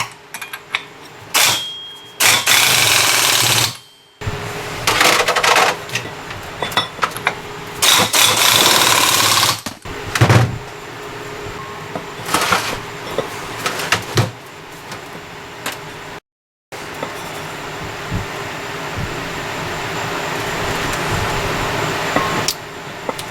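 An impact wrench tightens a jam nut on a Big Foot leveling jack foot in loud, rattling bursts of several seconds each, separated by quieter gaps and a steady background hum.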